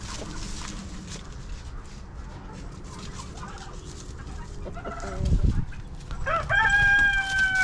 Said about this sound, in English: two guineas are fighting, and Maggie broke that up.